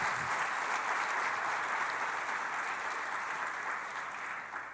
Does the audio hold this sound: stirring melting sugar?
no